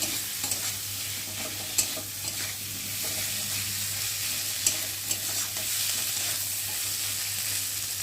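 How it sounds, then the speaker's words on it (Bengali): A spice paste of ginger and cumin with fried prawns sizzles in a pan, a steady close hiss broken by occasional sharp clicks of a spatula stirring. "মশলাটা একটু ভালো করে কষিয়ে নেব।"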